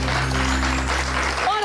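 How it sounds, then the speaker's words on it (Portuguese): Studio audience applause on a Portuguese afternoon TV talk show, a brief steady patter heard over a low hum. "Cláudia Moraes, para quem eu peço já um grande aplauso"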